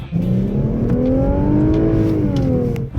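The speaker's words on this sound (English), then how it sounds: "Infiniti's chosen to pipe the engine sound through the stereo" Synthetic engine note from an Infiniti Q60 3.0T AWD coupe, played through the car's stereo, holds a steady mid-range drone that slowly rises and falls under acceleration, with no talking.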